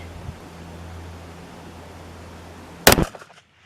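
A single sharp, loud .300 Win Mag rifle shot cracks after a stretch of quiet background hum, its echo decaying quickly, during 2000 m long-range target shooting in gusting wind.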